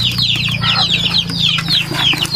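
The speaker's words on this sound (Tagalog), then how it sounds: "Mukhang behave naman ng mga manok na to dahil hindi sila lumalabas ng kulungan." Chickens in a coop give repeated bright clucks and squawks, close and loud, in quick overlapping bursts over a low steady hum.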